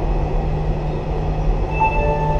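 Steady, close rumble of an Agra metro train in motion, with a constant low drone and faint rail hum throughout, no voices.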